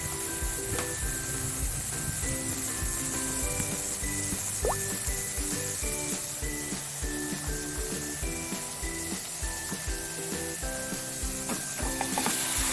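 Sliced pork kasim hitting browned garlic in a pan for adobo, a steady, bright sizzle with crackles and spits that keeps going, while background music plays underneath.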